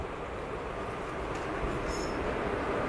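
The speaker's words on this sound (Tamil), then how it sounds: "நம்ம ட்ரெயின் வந்துடுச்சுங்க." A train hauled by an electric locomotive rolls into a station, a continuous rumble of wagons with brief high wheel squeals and clatter, at moderate distance and without talk.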